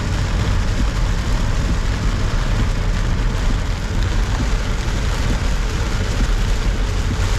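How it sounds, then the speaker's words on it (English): Heavy rain hammers a car driving through a night storm in Macau, a dense, steady roar of drops on the roof and windshield that drowns out nearly everything else, with engine and road rumble underneath. "You can barely hear it because the rain is so loud"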